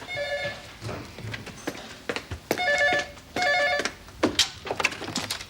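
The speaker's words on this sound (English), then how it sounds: "You better get that. It could be Helen" A telephone rings in a home in a 1991 soap opera, several repeated electronic trilling bursts with pauses between them, fairly clear with some background rustle.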